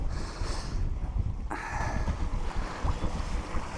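Wind while sailing under both headsail and mainsail, a steady broadband rush with buffeting on the microphone and water noise along the hull, continuous for a few seconds with no talking.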